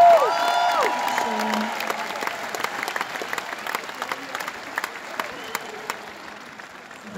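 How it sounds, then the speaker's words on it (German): A concert crowd in Kitzbühel bursts into applause that opens loud and then keeps going as a steady spatter of clapping, mixed with crowd noise and a few voices. "Das ist dein Applaus hier in Kitzbühel."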